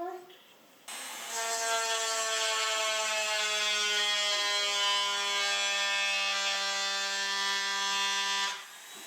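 A small power drill bores holes in seashells for homemade shell necklaces, giving a steady, loud high whine that starts abruptly, holds for about seven seconds, then cuts off.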